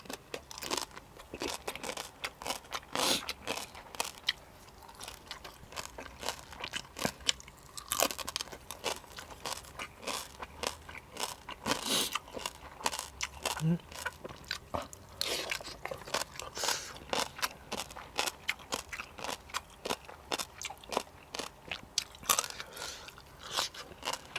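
Crisp, crunchy chewing of som tam, a Thai papaya salad made with field crab, heard close up as a steady run of bites and crackling crunches with no talking.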